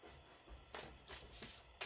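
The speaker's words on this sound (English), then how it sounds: "And you just shuffle the cards until you feel" Oracle cards are shuffled by hand in a few quick riffling bursts, close and soft, with quiet pauses between them.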